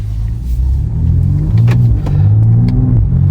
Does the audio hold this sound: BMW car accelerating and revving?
yes